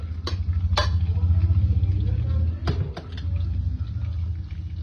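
Cumin, mustard seeds, dried red chillies, chana dal, urad dal and garlic fry in hot oil for a South Indian tempering, giving a steady low crackling sizzle with a few sharp pops and clinks near the pan.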